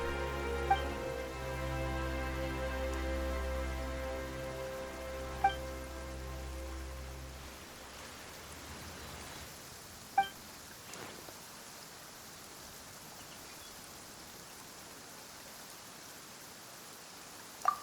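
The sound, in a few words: rain falling in Genshin Impact video game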